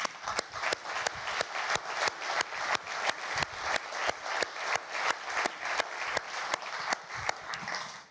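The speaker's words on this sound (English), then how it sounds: "please join me in a round of applause" An audience claps together at a corporate closing session, strong rhythmic unison claps beating evenly throughout.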